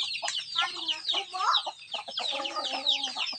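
Native chickens clucking on a small farm, a busy run of close, overlapping clucks and squawks in bursts, with a faint voice in the background.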